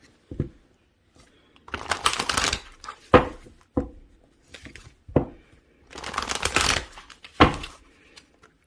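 A Career and Money Oracle deck is shuffled close up in uneven bursts. Crisp riffles and sharp slaps of the cards come irregularly in a quiet room.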